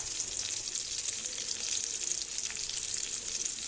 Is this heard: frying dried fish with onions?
yes